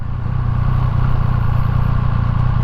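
A Triumph Speed Triple 1200 RS motorcycle engine runs close by with a loud, steady, throbbing low rumble. The beat is even, like a fast idle, and no one speaks over it.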